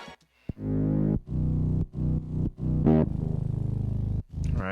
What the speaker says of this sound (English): I'm also doing some automation and some distortion right here.